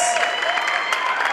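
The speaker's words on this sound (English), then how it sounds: "Ladies and gentlemen, can you put your hands together" Crowd applause for a comedy show, with scattered cheering, a dense steady roar of clapping throughout, fairly loud and close.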